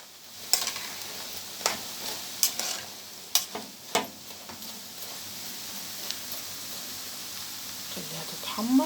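Potatoes frying in oil give a faint, steady sizzle broken by sharp scattered pops and clinks of a utensil against the pan, loudest in the first half.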